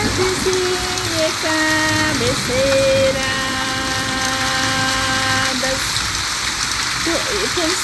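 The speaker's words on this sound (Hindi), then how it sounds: "आप लोग सुन सकते हैं बारिश की आवाज़" Heavy, steady rain pours throughout, loud and close, under a sung melody with sustained vocal notes and a few spoken words.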